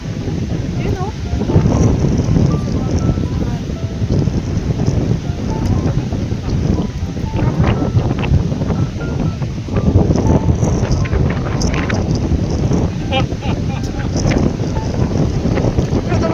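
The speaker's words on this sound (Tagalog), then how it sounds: "So, sobrang lakas ng alon." Strong waves wash onto the seashore under gusting wind that buffets the microphone, a loud, continuous roar of surf and wind with people talking over it.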